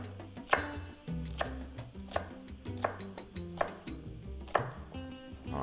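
A knife chopping green onions on a cutting board, about eight close, steady strokes evenly spaced, each a crisp thunk, with kitchen sounds in the background and no voice.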